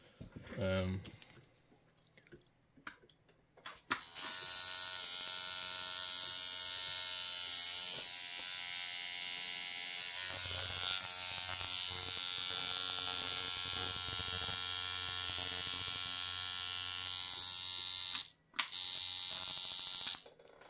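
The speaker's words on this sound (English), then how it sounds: "let's go ahead and see what this crazy stroke on this machine will do" A coil tattoo machine running with a long stroke, 90 hertz at 36% duty, gives a loud, continuous electric buzz for most of the stretch after a brief quiet start, cutting out briefly near the end.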